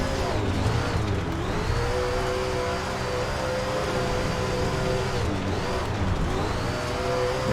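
Dirt Late Model race car in the SRX racing game drifting, a loud steady engine drone with shifting pitch and brief dips as the car slides, continuous throughout.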